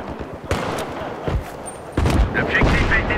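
Battlefield 3 combat on the Grand Bazar map, with an objective blowing up: a sharp explosion and booming thuds punctuate ongoing gunfire and rumbling, ending in a louder sustained blast with debris.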